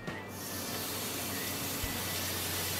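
A smashed bison burger patty sizzles on a hot grill under parchment paper, a loud continuous hiss and crackle holding steady from start to finish with a faint low hum beneath.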